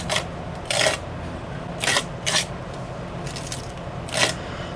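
Gritty texture paste spread onto a small card in several short rasping strokes, each a brief scrape with pauses between, close and fairly quiet.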